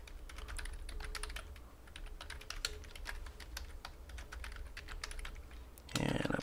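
Computer keyboard typing an email address, with rapid close key clicks in uneven bursts over a low hum, ending with a louder burst of noise.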